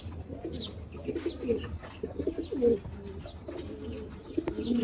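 Black-necked pigeons coo repeatedly in a loft, low throaty rolling calls coming in a steady series, close and moderately loud, with faint chirps and rustling behind them.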